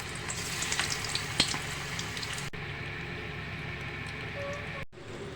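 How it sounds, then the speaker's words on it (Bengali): Chicken pakora pieces fry in hot oil in a kadai, giving a steady, fairly quiet sizzle and bubbling throughout, with a couple of small pops. "এবারে একটা একটা চিকেনের টুকরো নিয়ে কড়াই ছেড়ে দেব"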